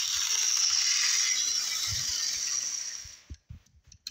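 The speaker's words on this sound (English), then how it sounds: "This is a 1980s Bachmann, so they're notorious for their pancake motor issues, but let's give it some power." A 1980s Bachmann HO scale locomotive with a pancake motor runs under power, a close steady high-pitched mechanical whine for about three seconds before cutting out, followed by a few faint clicks and rattles.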